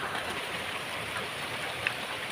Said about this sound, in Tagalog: Sobrang ulan sa ngayon